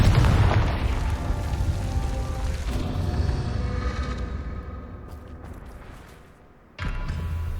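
A Confringo fire-blast spell in Hogwarts Legacy bursts into a loud, rumbling explosion that rolls on for several seconds, fades, then a second boom cuts in sharply near the end.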